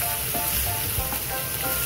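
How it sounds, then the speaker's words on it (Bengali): Onions and spices fry steadily in a pan for a Katla fish curry with poppy seeds, a dense, close sizzle that holds at an even level with faint stirring clicks and no voices. "তো পেঁয়াজ যখন ভাজা ভাজা হয়ে থাকুক"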